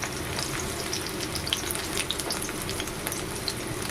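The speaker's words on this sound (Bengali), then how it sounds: "তেলে দিয়ে দেবো পেঁয়াজ কুচি" Chopped onion hisses and sizzles in hot oil in a home kitchen, a steady close crackle with faint scraping, no voices.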